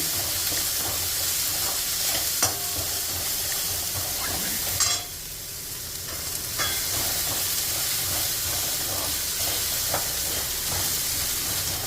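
Onions sauté in a pan for poha upma, giving a steady soft sizzle with occasional stirring scrapes and one brief drop in the hiss midway.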